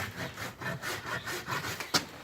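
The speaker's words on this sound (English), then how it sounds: "A good sharp rasp, I can take off 1/8 of an inch" A sharp rasp files down a horse hoof during trimming for shoeing, giving a series of rough, scraping strokes in a rhythmic back-and-forth, close and moderately loud with no talking.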